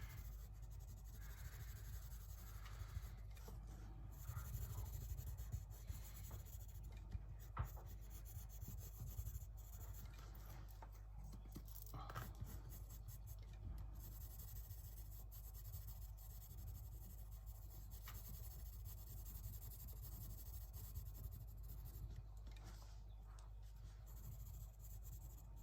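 Colored pencils scratching and rubbing softly across the paper of a colouring book, a faint, steady scribbling texture with small pauses as the page is turned and shifted, close up and quiet.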